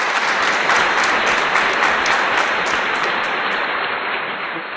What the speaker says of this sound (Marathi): सरांच्यासाठी जोरदार टाळ्या वाजव.